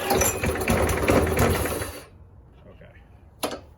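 A Briggs and Stratton lawn mower engine, primed with a little fuel in the cylinder, fires up briefly with a loud close rattling run for about two seconds, then cuts out to near quiet, followed by a short mechanical clack.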